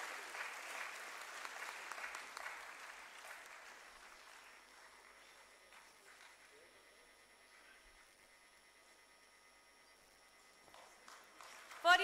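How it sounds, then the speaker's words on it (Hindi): Applause from the audience at a university of health sciences convocation ceremony is fairly faint and distant. It is fuller for the first few seconds, then dwindles to scattered claps over a quiet background hum. "तालियां नहीं रुकनी चाहिए इन बच्चों के लिए"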